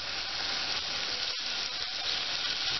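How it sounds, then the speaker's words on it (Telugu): Onions frying in a pan with salt and turmeric, giving a steady, close, dense sizzle that runs unbroken apart from a brief dip partway through, with no voices. "ఉల్లిపాయలు మంచిగా కలర్ వచ్చే వరకు వేయించుకోవాలి"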